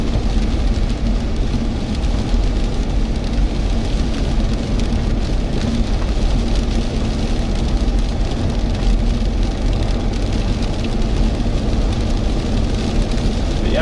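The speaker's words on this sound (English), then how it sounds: "that was a pretty good rain band that was coming through" Heavy rain band from Hurricane Beryl pounding Matagorda Beach, Texas, a loud, dense, unbroken roar of rain and wind that stays steady throughout, with no speech.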